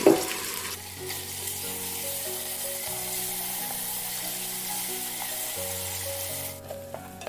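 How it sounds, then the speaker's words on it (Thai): Shiitake mushrooms stir-fry in a hot pan with steady, loud sizzling that holds evenly throughout, with a brief softer patch near the end and no voices over it. "หอมแล้วก็เอาเห็ดหอมเนี่ยค่ะ ลงใส่ผัดด้วย"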